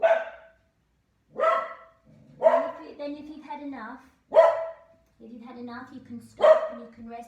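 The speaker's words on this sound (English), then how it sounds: "I'm sorry about my dog keep going, but I'm going to carry on." A dog barks loudly and close by in sharp bursts, about four or five times at regular intervals, between and over a calm voice guiding a yoga session indoors.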